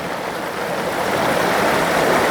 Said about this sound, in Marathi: खळखळ खळखळ आवाज येत असेल